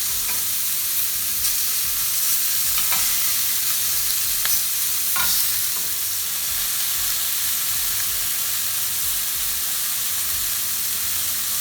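Beef for tacos sizzles loudly and steadily on a hot grill, a dense continuous hiss with a few brief ticks and scrapes as the meat is flipped.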